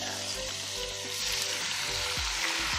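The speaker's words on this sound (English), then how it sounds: "Oh, feel that sizzle" Chicken thighs sizzle and crackle loudly in a hot pot, a steady frying hiss with occasional clunks and scraping stirs.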